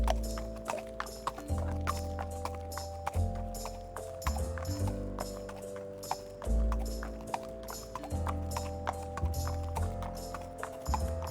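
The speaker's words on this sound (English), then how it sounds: "Horse." Horse hooves clip-clopping in a steady rhythmic beat, joined by a whinnying neigh, set over a light musical backing, with no voices.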